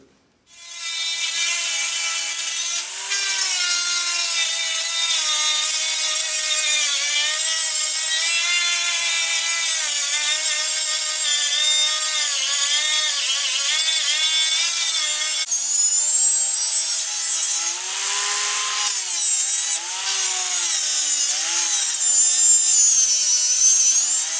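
An 80 grit sanding disc grinding away epoxy on granite under a countertop sink, a loud continuous abrasive whir with wavering pitch that runs unbroken for over twenty seconds at close range, no talking.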